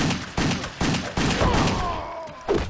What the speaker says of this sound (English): Shoot them down.